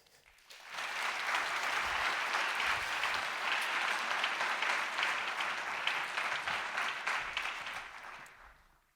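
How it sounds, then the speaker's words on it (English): Audience at a summit breaks into warm applause to welcome a keynote speaker, a thick, sustained roar of clapping that starts abruptly, holds steady for several seconds, then tapers off at the end. "I ask you to welcome with a very warm applause Dr. Alaa Murabit"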